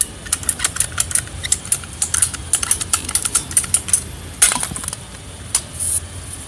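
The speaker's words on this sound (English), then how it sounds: "I'm going to cut this pipe down halfway." An irrigation pipe being cut down halfway during a repair, producing a steady run of close, sharp clicking snips and crunches in quick rhythm, loud and with no voices.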